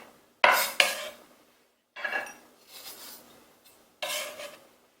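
Several quiet scraping and clattering bursts of a knife pushing sliced mushrooms across a cutting board onto a plate come in separate strokes with short pauses.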